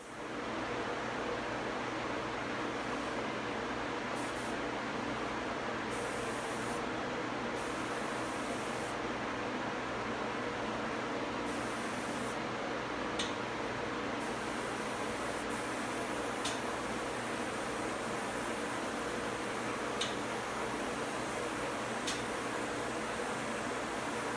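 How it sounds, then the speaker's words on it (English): A steady broadband hiss of spraying lacquer blends with the constant whoosh of fans, continuous and fairly loud, with occasional faint ticks. "I'm going to go ahead and turn the fans on, and we'll go ahead and spray this."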